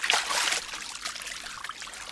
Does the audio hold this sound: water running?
yes